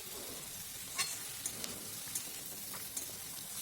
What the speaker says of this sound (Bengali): ভেজে রাখা মাছগুলো দিয়ে এবার আমি ভালো করে মাছগুলো মিশিয়ে নেব।